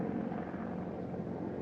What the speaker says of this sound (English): right now we have a military helicopter of some kind flying